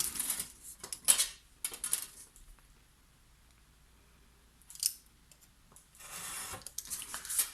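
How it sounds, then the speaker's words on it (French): Craft cutter knife slicing through paper for a spring storage craft, a few short scraping cuts near the start, middle and end with quiet pauses between, close and fairly soft, no talking. "Moi j'ai le cutter sous la main. Je viens couper cette partie."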